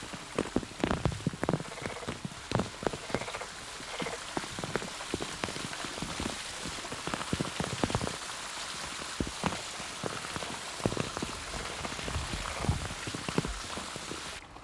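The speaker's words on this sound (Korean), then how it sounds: "가을을 재촉하는 비가 내리자" Autumn rain falls steadily on a wetland bog, a dense hiss of drops with scattered sharper patters and splashes close by, continuing evenly throughout with no voices.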